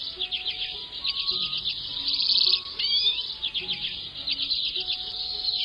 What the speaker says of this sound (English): Acanthus flammeus, the common redpoll.